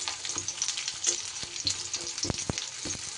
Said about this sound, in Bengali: সেই আলুটা দিয়ে দিলাম। আলুটা একটু ভাজা ভাজা করে নেব।